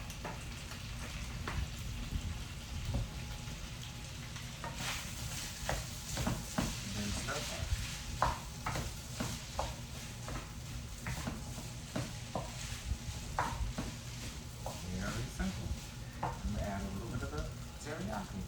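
Oil heating in a pan for a rice and chicken stir-fry, a steady close sizzle with frequent clinks and scrapes of a utensil stirring against the pan, someone talking over it.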